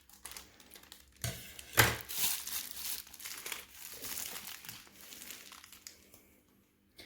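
Plastic piping bag filled with buttercream icing has its tip snipped off with scissors: a quiet crinkle of plastic, then one sharp snip and a brief rustle as the bag is handled, with no talk.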